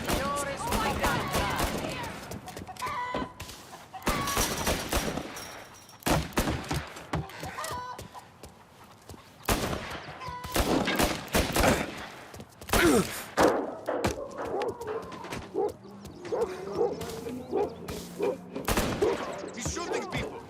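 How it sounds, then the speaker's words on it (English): Rapid bursts of gunfire from Mafia: Definitive Edition, loud repeated shots and thuds crowding the first half, then scattered shots under panicked shouting voices and game chatter. "He's shooting people!"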